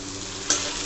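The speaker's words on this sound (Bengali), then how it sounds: "পেঁয়াজটা ভালো করে ভেজে এবারে আদা রসুন পেঁয়াজের পেস্ট দিচ্ছি।" An onion, ginger and garlic paste sizzles steadily in a hot pan, with a brief stirring scrape partway through, close and continuous.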